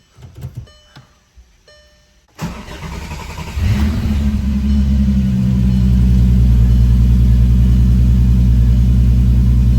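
Volkswagen MK6 GTI with a 3.6 VR6 engine starting for the first time: a short starter crank, the engine catching with a bark, then a loud, deep, steady idle that swells as it revs, close up, after brief quiet talk.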